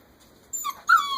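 Puppies about six weeks old let out two short, high whimpers close by after a moment of near silence, each a thin whine that wavers and trails off.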